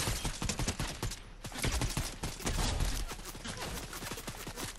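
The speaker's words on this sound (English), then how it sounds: "Wait, who else is shooting at me?" Dense bursts of rapid gunfire crackle almost without pause in a video game battle set at a fort, shots overlapping at close range and fairly loud throughout the clip.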